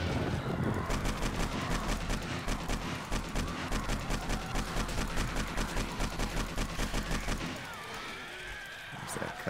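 Rapid AK rifle fire in 7 Days to Die during a bunker horde attack, a long steady burst of regular close shots that cuts off near the end, with a voice faintly talking underneath.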